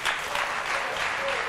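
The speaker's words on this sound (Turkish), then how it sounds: "Alkışlar Emel Türkmen'e." Studio audience applauding on a Turkish daytime talk show, a brief dense burst of clapping that stays steady throughout, with no talk over it.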